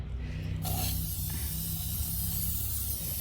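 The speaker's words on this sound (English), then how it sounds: "I guess I'll spray half of them" An old aerosol spray paint can hisses as it coats a vase, a sudden loud spray that starts after a brief pause and holds steadily to the end.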